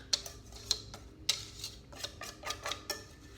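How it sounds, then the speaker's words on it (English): A whisk taps and scrapes against a bowl, clearing out the last of a gluten-free sausage breakfast casserole mixture in a quick series of light metallic clicks, close and quiet. "Use my whisk to get the rest of this out of here."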